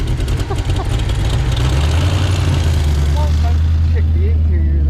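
Rough, loud low rumble of a Fox body car engine straining to hold an idle, steady and close throughout, with voices murmuring underneath.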